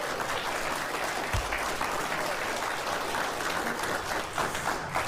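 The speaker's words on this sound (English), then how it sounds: "the louder the audience claps all during the show, one of them will get the credit card" A studio audience at a television talk show claps loudly and continuously, a dense unbroken roar of hands with a single low thump early on.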